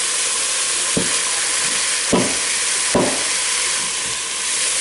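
Onion, garlic and shallot frying in rendered sausage fat for a Zuppa Toscana soup, a steady close sizzle and hiss with a few brief stirring scrapes, no voices.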